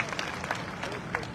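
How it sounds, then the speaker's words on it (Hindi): Audience applauding: brief, moderately loud clapping from a small group over a speaking voice. "ताली बजाओ मैडम के लिए भाई"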